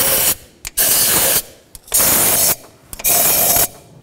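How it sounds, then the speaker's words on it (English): Compressed air blasting out the piston areas of a 5.4L two-valve Ford F-150 engine during a head gasket job, four loud hissing bursts in a stop-start rhythm, each lasting under a second. "I'm gonna blow out these piston areas one more time"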